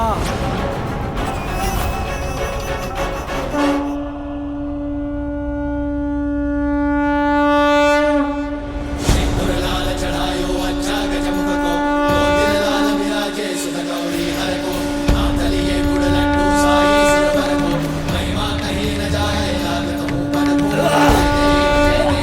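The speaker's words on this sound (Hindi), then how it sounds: "नारायण के शंख की ध्वनि है" A conch shell blown in a long, loud blaring tone that sustains for several seconds over a busy, dense background, with voices and other sounds around it.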